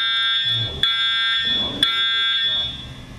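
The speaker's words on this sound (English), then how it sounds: "A fire alarm brings the interview to a halt." Fire alarm blaring during an interview, a loud steady multi-tone electronic whine running continuously throughout, with talking faintly beneath it.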